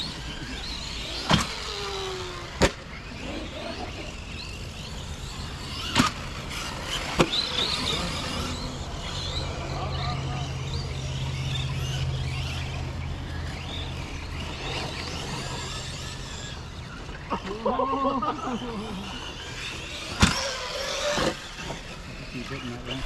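Traxxas Maxx and Arrma Granite RC monster trucks race, electric motors whining and rising in pitch with sharp knocks and impacts, while several people talk and call out over the buzzing.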